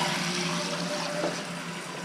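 Water rushing steadily into a toilet tank through a newly installed fill valve, a continuous hissing flow at close range with no talk.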